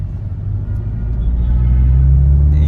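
A Skoda Octavia VRS 245 pulling away in normal mode at light throttle, its engine rumble swelling steadily louder and deeper over a few seconds, close and alone without talk.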